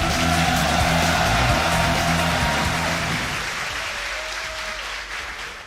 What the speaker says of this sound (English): The crowd is excited. You can hear them all.